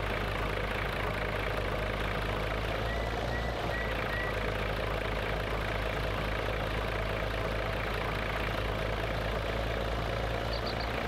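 Old Güldner 75A diesel tractor engine in Farming Simulator 19, idling alone with a steady low rumble and constant mechanical drone throughout, with no talk.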